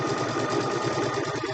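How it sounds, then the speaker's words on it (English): A Gemini sewing machine stitches fabric for a log cabin quilt block, giving a fast, even mechanical whir and chatter that runs steadily and close by, with no voices. "I'm just going to stitch till I'm one stitch off of the top fabric"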